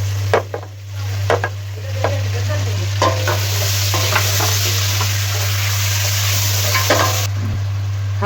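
Chicken and tomatoes fry in a pan over a low flame for green chilli chicken, a steady close sizzle with scattered clinks and scrapes of stirring, under a constant low hum.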